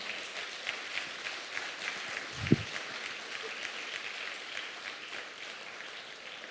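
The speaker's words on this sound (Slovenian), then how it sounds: "En aplavz za oba, prosim." At an awards ceremony, an audience applauds two contestants with a sustained, even round of clapping. The patter is moderately distant, with one soft thump near the middle.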